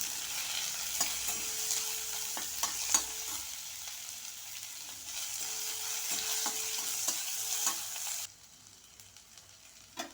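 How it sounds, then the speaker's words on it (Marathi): Onion and curry leaves fry over a low flame for veg masala pulao, giving a steady close sizzle with repeated scraping stir strokes that stops abruptly near the end, leaving quiet. "कांदा असा गुलाबी होईपर्यंत मंद आचेवर भाजून घेणार आहे"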